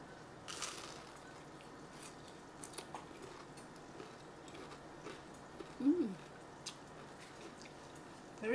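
Homemade Chinese-style egg rolls are bitten and chewed, giving faint scattered crunches and a few sharper snaps close to the microphone, spread over several seconds against quiet background noise.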